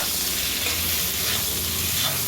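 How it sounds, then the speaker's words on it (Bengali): Loud, continuous sizzling of eggplant frying in a pan, a dense, even hiss with no talking. "সেই বেগুনটা ভেজে নেব"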